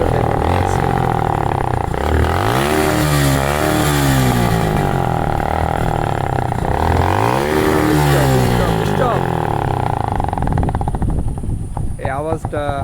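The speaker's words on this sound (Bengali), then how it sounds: "এই আওয়াজটা হওয়ার একমাত্র কারণ হচ্ছে এই যে সাইলেন্সারের নল দুটা, যে মাথা দুটা বের হয়ে থাকে, ওই দুটা গ্রাইন্ডিং দিয়ে কাটা হয়েছে" Close, loud revving of a Suzuki Monoton motorcycle whose silencer pipe ends have been cut off with a grinder: two strong throttle blips sweep up and fall back over a rough idle, with a voice talking in places near the end.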